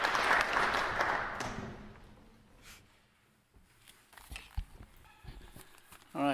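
Applause for the treasurer at an annual meeting: a burst of clapping for the first second and a half that quickly fades, followed by scattered faint room noises and shuffling.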